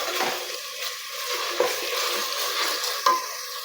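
Vegetable biryani masala stirred in a pot in a village kitchen, a steady scraping stir over a soft continuous sizzle, with a few sharper clinks of the spoon against the pot, no talking.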